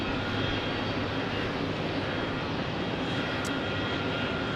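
Airplane at Phoenix Sky Harbor airport, a steady broadband engine roar holding evenly throughout at moderate level, with no voices.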